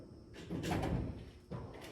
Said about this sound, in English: Some of the drawers, when they're opening halfway, they kind of stick right there